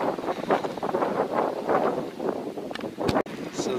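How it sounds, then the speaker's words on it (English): Strong, gusting wind buffets the microphone on a wooded mountain trail in the Roan Highlands, about 6,200 ft up, giving a loud, continuous rushing roar that swells and dips, with a brief dropout near the end. "See, the wind is quite strong."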